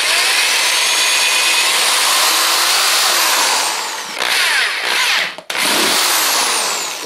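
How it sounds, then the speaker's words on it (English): A power drill bores a hole through a homemade coat hanger antenna mount, a loud continuous whirring close by that wavers under load, briefly cuts out near the end, then spins up again. "Gonna drill a hole in the center"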